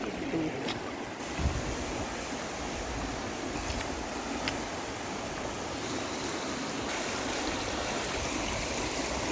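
Mountain river with clear, icy water flowing steadily, a continuous close rushing and gurgling wash with no pauses, and no one speaking over it.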